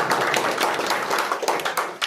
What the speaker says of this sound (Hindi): जोरदार ताली हो ताबिश साहब के लिए